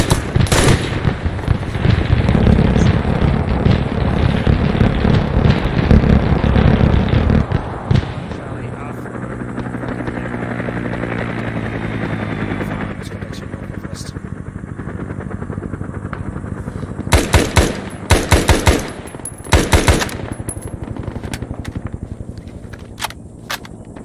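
Bursts of automatic gunfire crackle through a military simulation battle in the video game Arma 3, dense rattling volleys early on, then scattered sharp shots later over a rumbling background, with voices talking over radio at times.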